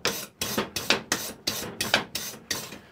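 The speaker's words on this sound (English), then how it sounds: "When you're wire brushing as well, you don't wire brush like that because that rubs the oxide into the aluminium." Wire brush rasping over an aluminium alloy VW sump in a workshop, ahead of a TIG weld repair: about eight close, loud scratchy strokes in a steady back-and-forth rhythm, with no talking.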